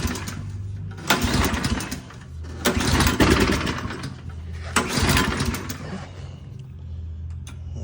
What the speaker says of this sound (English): Let me put it off choke, get it started.